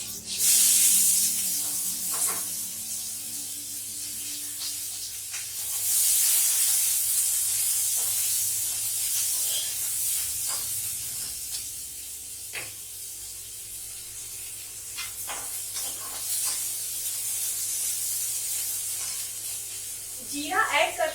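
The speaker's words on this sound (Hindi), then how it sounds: "जीरा ऐड करते ही मैं प्याज इसलिए ऐड कर देती हूँ जल्दी से" Chopped onions and cumin seeds hitting hot oil in a home kitchen give a steady hissing sizzle throughout, with brief clatters and stirring noises and a final burst of louder frying near the end.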